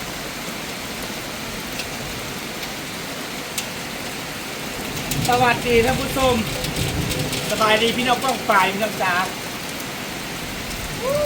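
Heavy rain falls steadily as a dense hiss, with water running alongside at a home in the countryside, while someone speaks over it in the second half.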